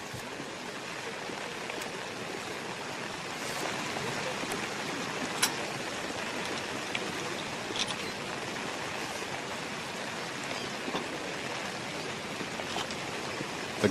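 Heavy rain pours steadily on a golf course during a championship round, a dense, even hiss with scattered louder drop spatters, continuous and close throughout with no voices.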